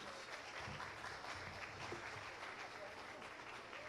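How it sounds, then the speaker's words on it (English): Applause from a crowd at an awards ceremony, steady clapping that stays fairly constant for a few seconds, heard at a distance and fairly faint. "Another round of applause"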